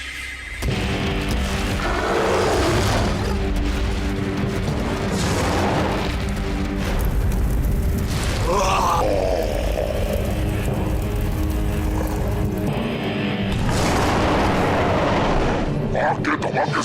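Fiery explosions in an animated dinosaur adventure movie, several loud booming blasts with rumbling tails spread across the stretch, mixed with music and battle noise.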